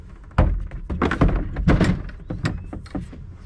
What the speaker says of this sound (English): Let me put that cooler in there